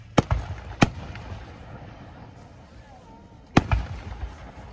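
Fireworks burst at a Fourth of July show, several sharp loud bangs coming in a quick pair, then a single blast after a lull, with quiet crowd murmur and a voice between.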